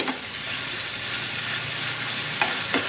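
Tempering spices crackle in hot oil in a home kitchen, a loud continuous sizzle close by with a couple of sharper pops toward the end.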